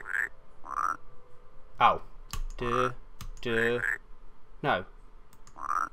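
Frogs croak in the puzzle video game Rusty Lake: Paradise, a handful of short mid-pitched calls repeating at intervals, mixed with a few sharper game sounds and brief spoken exclamations.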